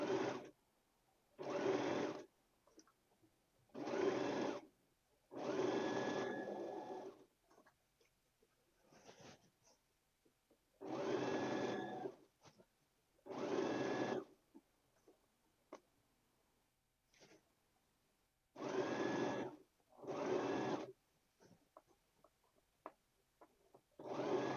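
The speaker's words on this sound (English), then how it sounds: "So feed it to the sewing machine and we'll start sewing." A sewing machine stitches an enclosed zipper in several separate bursts of steady, close, moderately loud whirring, with quiet pauses between runs and no talking.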